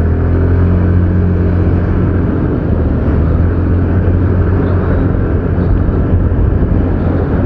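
A 2022 Yamaha Fascino 125 Hybrid scooter accelerates on the road, its engine a loud, steady, close rumble mixed with wind noise throughout.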